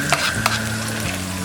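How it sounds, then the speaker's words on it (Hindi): Chopped vegetables, carrot among them, being stir-fried in a pan for soya chunks fried rice, with a steady sizzle and a couple of sharp spatula scrapes alone in the foreground. "इसमें बाकी सारे वेजेस डालेंगे। 1 कैरेट चॉप्ड,"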